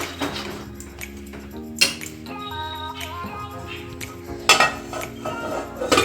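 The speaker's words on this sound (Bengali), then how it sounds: "এবার সব কিছু ভালো করে একবার মিশিয়ে নিচ্ছি।" A spatula stirs bottle gourd and red lentils in a metal wok, giving scattered scrapes and clinks, with a louder clatter near the start and another near the end, over a steady background hum.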